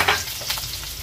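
Chopped onions and dried chilies hit hot oil with a steady, loud crackling sizzle, close up and without any voices.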